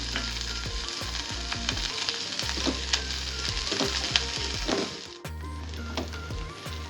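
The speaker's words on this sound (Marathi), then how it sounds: "एक चमचा तेलामध्ये हे परतून घेऊयात आपण" Onions sautéing in a spoonful of oil for spicy cabbage wada masala give off a steady close sizzle, with occasional spoon stirs and scrapes against the pan.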